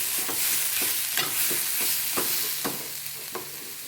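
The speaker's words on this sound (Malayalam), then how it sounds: "ഈ പൊടികളൊക്കെ ഇട്ടില്ലേ അതിൻ്റെ മണം പോണ വരയ്ക്കും ഒന്ന് വറുത്തിട്ട്" Ground spice powders dry-roasting in a pan for kollu (horse gram) rasam, a soft steady sizzle broken by a dozen or so light scraping stir strokes at an uneven rhythm, close by with no voices.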